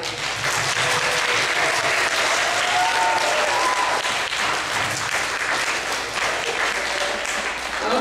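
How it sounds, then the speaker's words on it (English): An audience applauds young performers after a school show, steady dense clapping that continues without pause for the whole stretch, with no speech. "we'll give one more big round of applause."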